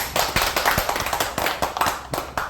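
A small group of party members clapping at a political gathering, a brief scattered round of claps with uneven rhythm, moderately close and without talk.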